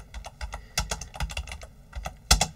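Keys clatter on a computer keyboard in quick, uneven bursts of close, crisp taps, with a short pause midway and a louder cluster of strokes near the end.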